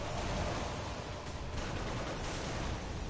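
Trap cannons firing in Bloodborne while an enemy stands on a switch: a dense, continuous roar of overlapping blasts, steady and loud throughout with little break between shots.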